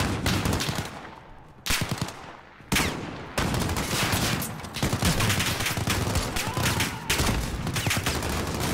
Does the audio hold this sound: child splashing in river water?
no